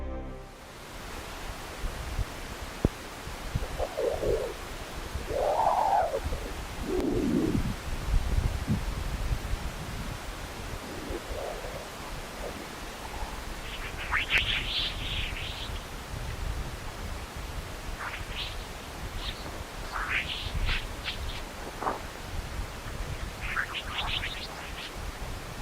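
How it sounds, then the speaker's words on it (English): Solar wind plasma waves converted to sound give sporadic rising and falling chirps and squeaks that sweep quickly in pitch, scattered over a soft hiss, some faint and some sharper and closer. "These peculiar chirping sounds come from dispersive waves, which quickly shift from one frequency to another as they move through the solar wind."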